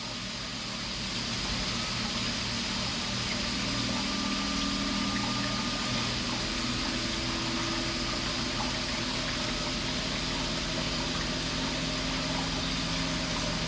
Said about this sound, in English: But as you can hear, the Panda is much louder.